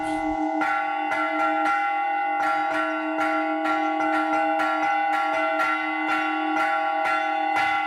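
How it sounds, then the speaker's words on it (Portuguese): Bronze church bells of several sizes rung together: a steady, rhythmic run of bright, ringing strikes with long overlapping resonance, close and clear, with no talk. "Os sinos têm vários tamanhos e o badalo também vários pesos. Então eu tenho que controlar o peso para eles baterem juntos."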